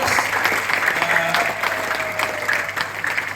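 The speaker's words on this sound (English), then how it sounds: "Let's give them a big round of applause" A room full of people gives a sustained round of applause for Trish and Bob at a gathering in a hotel, a dense steady clapping that holds evenly for several seconds.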